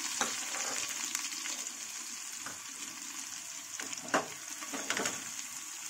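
Garlic-ginger paste frying in oil in a pan for a spicy village-style chicken dish, giving a steady low sizzle with a few scattered scrapes and taps from stirring.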